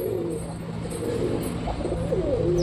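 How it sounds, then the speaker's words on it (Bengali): Pigeons of a Sultan breed pair coo steadily at close range, a low throaty warbling that repeats without pause over a faint background hum. "দেখো এই পায়রাটার ডাকাডাকি, পায়রাটা খতরনাক ডাকে, যাকে পায় তার পেছনেই ডাকে।"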